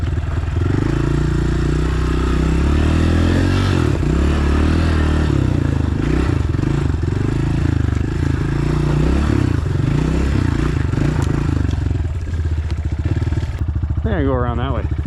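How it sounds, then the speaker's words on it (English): A 2026 Honda CRF125F dirt bike engine running while riding, a loud, continuous mid-pitched motor with rising and falling revs and clattering under it, close to the microphone throughout. "this is gonna break in the fucking dirt bike"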